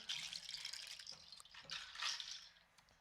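A Peruvian nut shaker rattles in soft, swishing bursts that sound like trickling, dripping water, swelling and fading over a few seconds.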